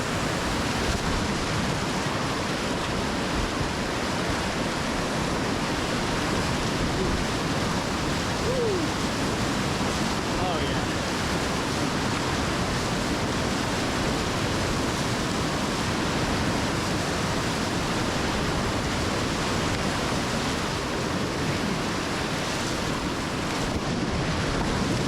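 River rapids roaring continuously around a Pyranha Helectron S kayak surfing a standing wave, a dense, steady rush of whitewater close by throughout, with no voices.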